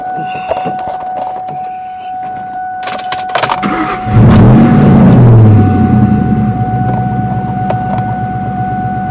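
A Ford Mustang Mach 1 starts up after a few clicks and chimes, the engine cranking, catching and rising briefly in pitch before settling into a steady, loud idle up close.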